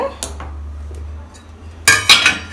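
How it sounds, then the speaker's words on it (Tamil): A plate edge presses down to trim excess rice-flour roti dough, producing a short cluster of close clinks and scraping clatter near the end after a low steady hum and a couple of soft taps. "இது மாதிரி ஒரு பிளேட் வச்சுட்டு எக்ஸ்ட்ரா மாவை வந்து கட் பண்ணிவிடுங்க"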